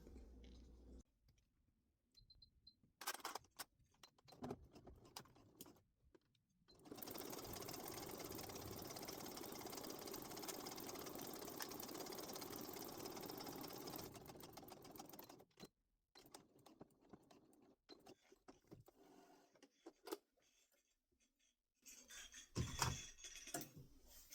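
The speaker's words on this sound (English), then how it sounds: "let's take this over to the machine and we will sew this up" A sewing machine stitches the seam of a fabric bucket bag, running steadily for about seven seconds, with quiet clicks and fabric handling before and after.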